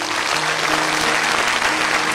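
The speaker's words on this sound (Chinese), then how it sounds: "掌声送给这一家。" A studio audience on a Chinese family show applauds a family, a dense, even burst of clapping filling the short span without pause.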